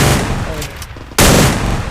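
Gunfire in the Free Fire video game, a dense burst of rapid shots that cuts in loudly partway through and continues to the end.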